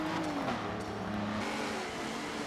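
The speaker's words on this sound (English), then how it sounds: "The Owl crosses the line to begin lap 2, taking the first 10 extra bonus points." Race cars on the Circuit de Catalunya track in a racing video game, a steady loud engine drone with pitch sweeps of revving and passing cars throughout, no talk.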